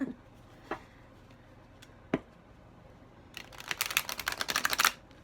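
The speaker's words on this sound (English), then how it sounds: "always refreshing when a new deck shuffles well." A new tarot card deck being shuffled, a brisk burst of papery riffling near the end after a few soft isolated taps, close and fairly quiet.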